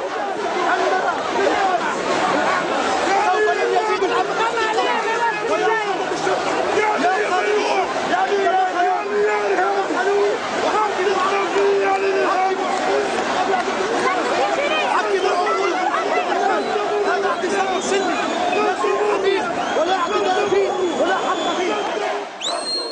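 A large protest crowd gathers outside a ministry guarded by barbed wire in Tunisia, lawyers among them, producing a dense, steady babble of many voices with scattered shouts lasting throughout.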